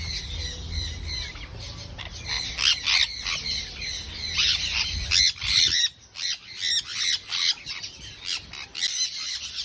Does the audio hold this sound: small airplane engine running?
no